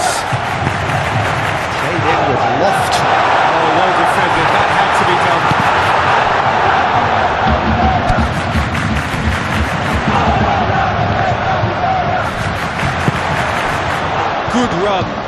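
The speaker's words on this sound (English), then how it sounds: "Crowd appreciates good football all round there" Stadium crowd noise in the PES 2021 football video game, a broad steady roar of applause and cheering filling the whole stretch, with a commentator talking over it throughout.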